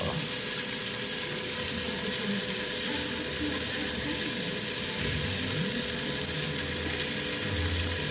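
Black pudding (boudin noir) cooking in a pan with butter and apple gives a steady, continuous sizzle and bubbling hiss throughout, moderately loud and close, with no talking.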